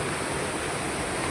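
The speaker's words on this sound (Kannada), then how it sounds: "ಅಲ್ಲಿಂದ ಇಲ್ಲಿವರೆಗೂ ಈ ವಾಟರ್ ಫಾಲ್ಸ್ ಇದೆ" Ezharakund waterfall in Kerala pours in a constant, dense rush of falling water, a loud and even broadband roar heard close up with no voices.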